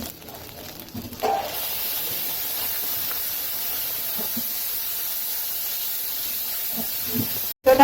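Tomato paste hits fried ginger paste in hot ghee with asafoetida for a vegetarian pointed gourd curry, setting off a loud, steady hiss of sizzling that begins after a second and holds evenly to the end.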